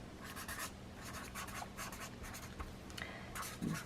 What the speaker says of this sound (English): Let me write this down, actually, so that I don't forget.